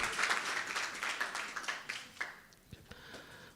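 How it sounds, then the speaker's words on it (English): Modest audience applause greets a speaker coming to the stage at an internet governance forum, fairly faint and fading, breaking into a few scattered individual claps and taps by the end. "Please give him a round of applause as he comes to the stage."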